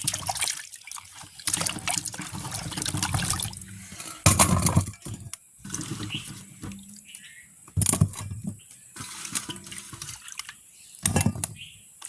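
Cassava tubers being washed by hand in water, with bursts of splashing and sloshing coming and going in irregular spells, close by and fairly loud, separated by brief quieter pauses.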